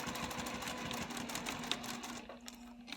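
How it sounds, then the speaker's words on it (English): A sewing machine runs steadily, stitching the angled card slot of a key fob wallet with a fast, even mechanical chatter that goes quiet near the end. "I'm going to stitch up my angled card slot and then across the entire top edge."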